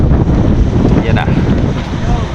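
Strong wind buffets a small boat crossing open water between an island and Lucena, a loud continuous roar of gusts and water rush with a faint voice behind it.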